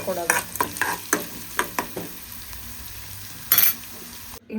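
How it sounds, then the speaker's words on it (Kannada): Onions sizzle in a hot pan while a utensil stirs them, giving a series of close, distinct scraping strokes over a steady frying hiss. "ಸ್ವಲ್ಪ ಉಳ್ಳಾಗಡ್ಡಿ ಫ್ರೈ ಆಗ್ಬೇಕು."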